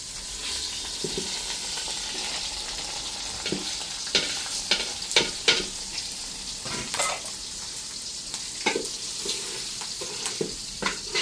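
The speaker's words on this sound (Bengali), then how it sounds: "আমি একটু সময় পোলাও চালগুলো ভেজে নেব" Polao rice fries with chopped onion, bay leaf, cardamom and cinnamon in a pan, a continuous hissing sizzle broken by repeated sharp spatula scrapes and clinks as it is stirred, with no voices.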